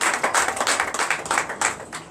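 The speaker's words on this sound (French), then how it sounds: "Donne l'acclamation à Jésus." A church congregation at a Sunday worship service in Benin claps for Jesus, a dense, steady patter of many hands with rhythmic surges, close and fairly loud.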